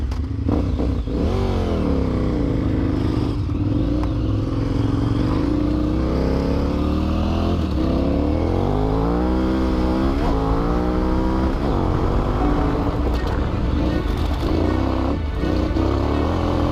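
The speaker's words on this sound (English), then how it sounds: "The 990 is just a big old dirt bike that carries the spirit of adventure" A KTM 990 Adventure dirt bike runs loud and close on an adventure rally in New Zealand's Southern Alps, its big engine droning steadily and rising and falling through repeated revs for the whole stretch.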